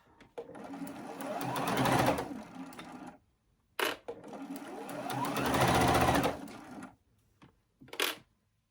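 A home sewing machine stitching through a thick quilt seam, two long bursts of rapid close mechanical whirring separated by pauses, then short stop-and-start runs.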